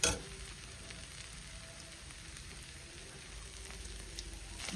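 Ingredients are sautéed in a pan in home cooking, giving a steady, even sizzle and crackle that runs throughout, close by with no talking.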